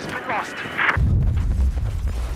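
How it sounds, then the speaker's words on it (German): Deep explosions and artillery booms from the video game Battlefield 4 rumble heavily after a brief burst of mixed game noise, low rolling thuds continuing for the rest of the moment. "wie das hier alles so explodiert"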